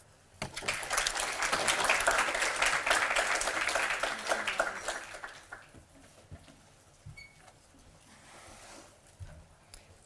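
Conference audience at Millersville University applauds as Dr. Polly Bart is welcomed, a dense burst of clapping swelling quickly, holding for several seconds, then thinning to scattered claps and room noise.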